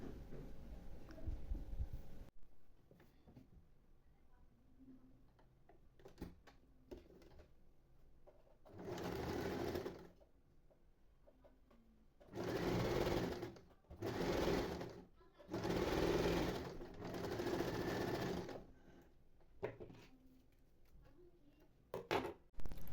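A sewing machine stitching a 1 cm hem on a headscarf, running in several short, close bursts of rapid needle hum separated by pauses, with soft talk in the quiet gaps.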